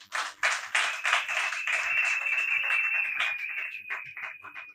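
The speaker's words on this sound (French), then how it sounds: "Applaudissez pour les hommes." A small crowd applauds at a civil wedding ceremony, scattered claps building into steady, moderately distant clapping with a faint sustained tone running beneath.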